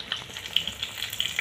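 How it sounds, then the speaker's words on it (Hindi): Fish sizzles steadily in oil in a pan over a wood-fired stove, a continuous crackling hiss with small spitting pops throughout, fairly close and moderately loud. "अभी हम लोग मछली फ्राई कर रहे हैं"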